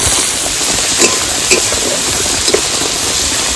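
Black cumin, onion, garlic and green chilli fry loudly in hot oil, a close, steady sizzle broken by a few soft stirring scrapes.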